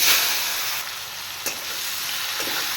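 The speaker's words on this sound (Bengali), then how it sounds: "এবার কিছু বরবটি ভেজে নেব" Yardlong beans fry in hot oil with a steady, close sizzle and crackle, a few brief utensil scrapes breaking through the dense hiss.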